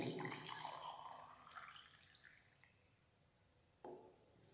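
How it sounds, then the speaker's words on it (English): Hot water is poured into a beaker, splashing briefly and tapering off, followed by quiet and a short liquid trickle near the end; fairly soft overall. "add some hot water into it"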